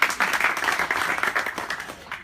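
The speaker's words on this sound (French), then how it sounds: "toutes les teams méritent les applaudissements" Applause at a graduation ceremony, a crowd clapping in a lively, uneven patter, fairly close, that tapers off toward the end.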